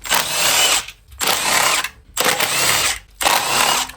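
A power tool, likely an impact driver or ratchet, runs in four even bursts of about three-quarters of a second each while removing 10mm coil pack bolts on a Hyundai Tucson engine, loud and close with brief gaps between.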